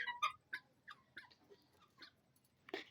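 Young chickens, now fairly well grown, give a quick run of faint, high, chirping peeps, closely spaced and uneven, ending in one slightly louder call.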